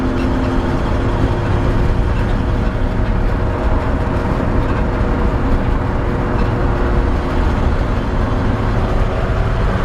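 A 1951 Ford F1 pickup truck driving at interstate speed makes a steady, loud broadband roar of engine, wind and road noise from inside the cab, continuous for the whole stretch with no talk.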